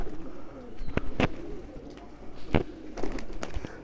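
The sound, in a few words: Kasuri pigeons cooing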